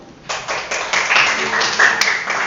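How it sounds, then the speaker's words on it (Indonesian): A group of students clap their hands together in a classroom before a group presentation, a fairly loud burst of scattered claps lasting about two seconds with voices mixed in. "Tepuk tangan dulu."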